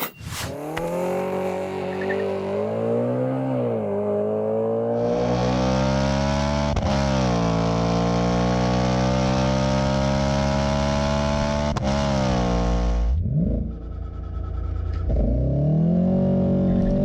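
A BMW M3 tuned by G-Power to 750 hp revs loudly and close, its engine note climbing, holding a strained high pitch, then dropping before surging again near the end.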